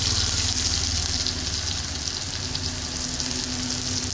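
Garlic, ginger and green chili paste hitting hot oil after mustard seeds in a cooking pot inside a lorry cab, giving a steady, dense sizzle and crackle that holds loud and unbroken throughout.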